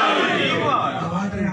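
A crowd at a religious gathering chants slogans together, a dense, loud mass of voices sustained through the whole short burst.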